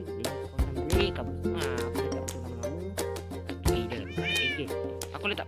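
Cat meowing in Minecraft Survival, repeated loud close meows with a rising, whining tone, several calls in a row over a steady background hum.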